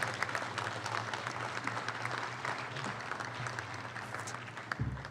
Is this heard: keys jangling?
no